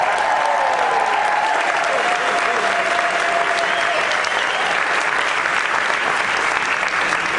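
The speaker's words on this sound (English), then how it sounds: "Give them a big round of applause." Sustained applause from a theater audience at the Berkeley Rep, steady dense clapping filling the whole stretch, with faint crowd murmur and a brief tonal whistle-like sound early on.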